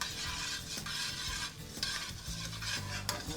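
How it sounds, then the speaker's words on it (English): A pat of butter melts in a pan over low heat and is swirled around, a gentle continuous sizzle broken by soft scraping and clinks of the pan moving, with no voices. "So I'm gonna take a pat of butter, and my burner is on a pretty low heat, all right? And I'm gonna swirl this butter around."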